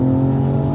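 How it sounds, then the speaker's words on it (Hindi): A BMW electric car gives off a steady, loud roar with a deep, even hum that holds throughout, close by and with no one speaking. "so you can actually listen the car roaring, बिल्कुल ऐसे रोरिंग"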